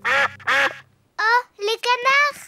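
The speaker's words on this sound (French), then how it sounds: "Oh, les canards." Cartoon ducks quack in a garden, two quick loud quacks, a short pause, then a run of three more, close and clear with no talk over them.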